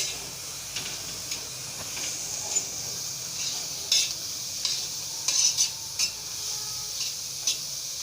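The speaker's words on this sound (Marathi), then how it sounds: "ड्राय कांदा मी परतून घेते" Sliced onions are sautéed dry in a pan for egg tawa masala, with a low constant hiss broken by intermittent scraping and clinking strokes of a spatula against the metal, close up and without talk.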